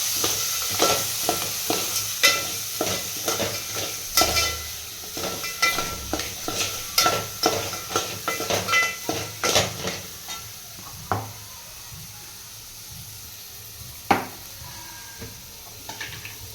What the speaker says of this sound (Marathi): आता खेकडं आपण टाकलेलं आहे.